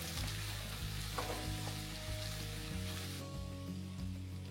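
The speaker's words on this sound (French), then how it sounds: "j'ajoute tous les autres légumes et je les laisse dorer à leur tour" Vegetables fry and brown in butter in a pot after onions, giving a steady close sizzle and crackle with occasional stirring, alone without talk.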